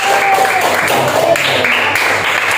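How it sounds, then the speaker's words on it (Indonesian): A classroom group claps for a student team after its presentation, a dense, steady patter of many hands filling the room, loud and close, with voices mixed in. "Tepuk tangan untuk kelompok 2."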